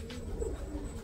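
Pigeon cooing, close and low, a steady soft murmur of throaty coos running through the whole second with no speech over it.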